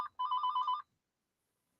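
Electronic telephone ring, a single burst of rapid warbling trills lasting under a second, clear and close, followed by silence and the start of a voice.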